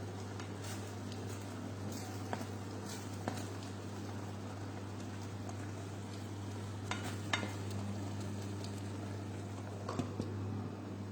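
Poha mixed with masala stir-fried in a pan, giving a soft, steady sizzle with scattered scrapes and ticks of stirring over a constant low hum.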